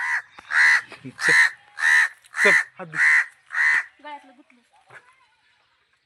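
A crow caws loudly and close by, about seven harsh caws in an even rhythm, with a brief spoken phrase at the start.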